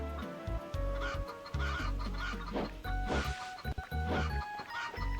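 Chicken in the Alundra video game clucking in a rapid series of short, choppy bursts, close and fairly loud, with brief game tones between the clucks and no speech.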